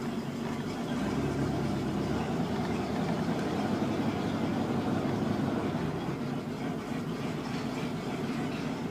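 A 1993 Kayot Ultima boat engine idling on a garden hose for cooling, a steady low rumbling drone heard close and unbroken throughout.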